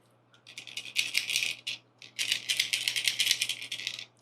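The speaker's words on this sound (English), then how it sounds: "Aggressive rattle." A red walleye fishing lure packed with ball bearings is shaken in two bursts, giving a fast, bright, aggressive clicking rattle close up with a short pause between.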